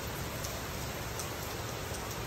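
Steady rain falls in a continuous, even hiss with no breaks, a dense wash of drops heard alone at moderate volume.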